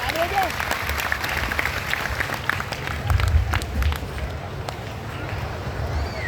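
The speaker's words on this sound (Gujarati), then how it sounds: "તાળીઓના ગગડાટથી વધાવીએ અતિથિજનોને." Applause greets guests at a family religious ceremony, many hands clapping steadily in a broad, slightly distant wash that swells briefly midway, with background murmur.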